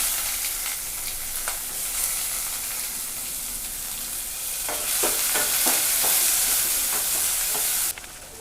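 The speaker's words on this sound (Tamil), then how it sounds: "இப்போ கடுகுலாம் பொரியுது, வெங்காயத்தை போட்டுக்கலாம்" Mustard seeds popping and sliced onions frying in a pan of hot oil: a steady, close sizzle with scattered small crackles and pops that grows louder midway, with no talk.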